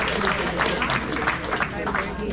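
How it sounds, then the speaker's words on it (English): A crowd at a community meeting claps loudly and continuously in a dense burst of applause lasting a couple of seconds. "Just give us a big applause, people."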